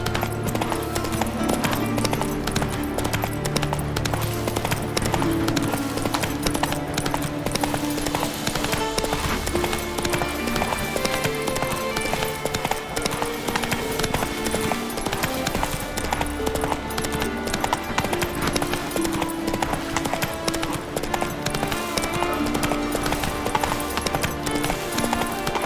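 A horse gallops at speed in The Witcher 3 video game, a steady rhythmic clip-clop of hooves that runs throughout, mixed with game music and ambience, with occasional faint whinnies.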